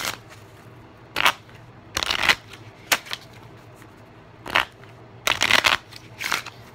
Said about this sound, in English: we're just gonna use this deck of cards real quick. I'm gonna mix them up a couple times.